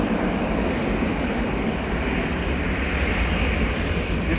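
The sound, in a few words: KLM Embraer 195 jet departing Amsterdam Schiphol for Florence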